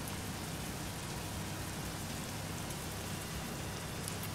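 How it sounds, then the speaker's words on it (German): Heavy rain falls in the truck-driving game 18 Wheels of Steel: American Long Haul, a dense, steady hiss of drops on a surface that holds at an even loudness with no talk. "Es regnet ja doch schon ziemlich heftig, glaube ich."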